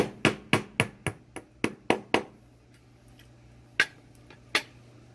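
A hammer taps a finishing nail to knock the cup and anvil out of a 209 shotgun primer, giving eight quick sharp raps in a steady rhythm, then a pause and two louder separate strikes.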